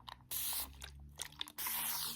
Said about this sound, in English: And this is a spray bottle.